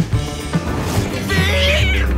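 A cartoon cat meows a few times in a rising, tonal cry over background music and effects.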